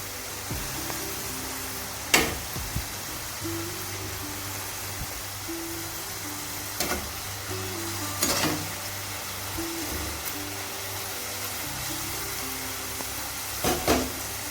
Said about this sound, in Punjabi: ਆਲੂਆਂ ਦੇ ਸਿਲਕੇ ਨੂੰ ਆਪਾਂ ਜੀ 5 ਮਿੰਟ ਤੱਕ ਤਲ ਲੈਣਾ ਜੀ